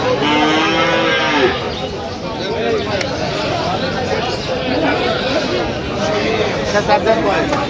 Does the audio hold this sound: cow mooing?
yes